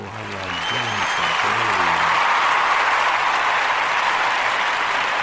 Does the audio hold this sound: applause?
yes